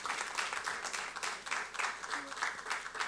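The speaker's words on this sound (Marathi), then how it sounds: "सगळ्या पार्टिसिपेंटसाठी एकदा जोरदार टाळ्या होऊ द्यात" Audience applause at a business award night, a steady wash of clapping from a crowd that continues without a break for a few seconds.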